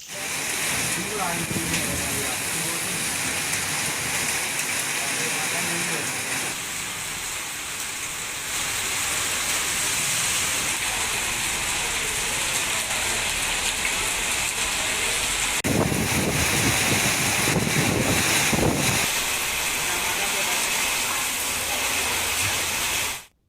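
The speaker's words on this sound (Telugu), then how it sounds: "ఈదురుగాలులు బలంగా వీచాయి. వర్షం కురిసింది." Heavy rain lashes down with strong gusty winds in Kamareddy, a dense, loud, continuous roar of downpour and wind noise with surging bursts, under a news narrator's voice.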